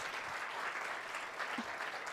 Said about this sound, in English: let's give a round of applause to our panelists today